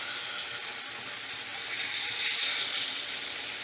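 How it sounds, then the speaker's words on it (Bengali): Boiled lentils poured from a vessel into a pan while cooking dal, a soft continuous wet pouring and sizzle, close and fairly quiet, with no talk. "সিদ্ধ করা ডাল আমি সবটাই দিয়ে দিলাম।"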